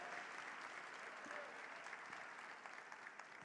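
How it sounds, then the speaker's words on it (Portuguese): Faint, distant applause from a church congregation welcoming a girl called up on stage, a dense steady patter of many hands clapping at low level throughout. "Uma salva de palmas para essa moça linda"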